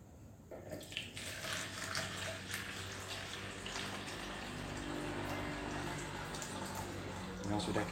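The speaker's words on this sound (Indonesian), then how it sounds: "Kita buang dahulu airnya." Settled water is poured out of a container of pounded plant-growing mixture, making a soft, continuous splashing trickle close by at a low level.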